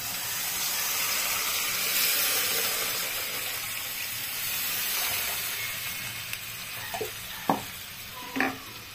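Broth pours into a hot pan with a steady, close sizzling hiss that runs throughout, and a few sharp clinks of utensils sound near the end; no one speaks.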